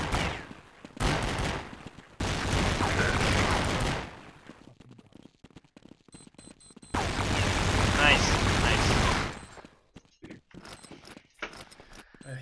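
Gunfire in Counter-Strike on the de_dust2 map, two long loud bursts of rapid shots with short pops in between, close and sharp, under scattered speech from players.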